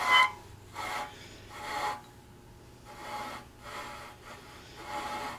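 A Ford 172 engine turned over dry with no oil after the cam and crankshaft are fitted: slow rough rasping grinding in repeated strokes about once a second, close and moderately loud, with no speech.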